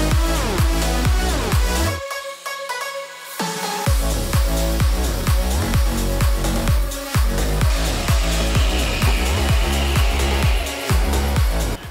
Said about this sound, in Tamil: நீண்ட நேரம் போராட்டத்துக்கு பிறகு நம்ம வந்து Lifestraw வந்து கட் பண்ணியாச்சு